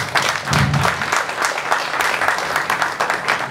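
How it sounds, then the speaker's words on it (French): Applause from guests at an emerald wedding anniversary celebration honoring a couple, dense steady clapping close by, filling the whole moment without speech. "Et j'aimerais que tout un chacun puisse les applaudir avec nous."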